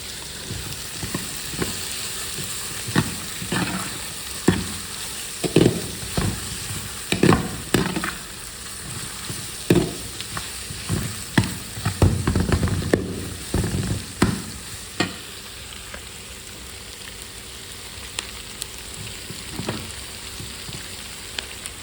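A bunch of curry leaves fries in hot oil in a pan, crackling and sizzling close by while a utensil stirs and scrapes in irregular bursts, busiest midway and then settling into a quieter sizzle.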